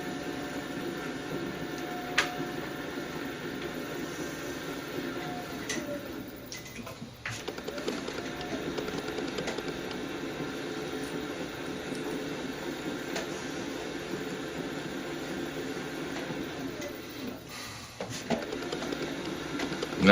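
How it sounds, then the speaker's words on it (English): Slightly wet clay is trimmed from the bottom of a thrown pot on a turning potter's wheel, a soft continuous whirring hum with faint scraping and a few light knocks. "Now I'm just going to remove clay off the bottom and foot the bottom."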